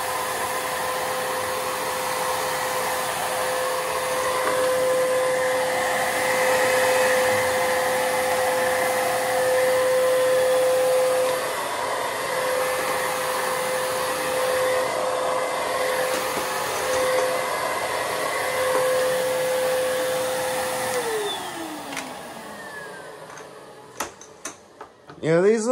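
A Bissell Powerglide Pet+ lift-off upright vacuum cleaner runs with a steady, loud motor whine and airflow roar, then spins down near the end, followed by a few clicks and handling knocks.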